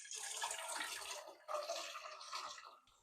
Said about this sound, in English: I'm gonna add the water.